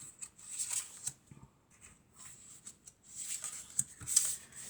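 Tarot cards being shuffled by hand during a reading, a series of soft riffling and sliding bursts with brief pauses between them, close and fairly quiet.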